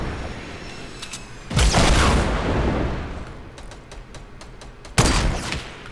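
Gunfire in the Fortnite Battle Royale video game: a sharp burst of shots around the midpoint with a rumbling tail, a few lighter cracks after it, then another loud shot near the end, all close and loud.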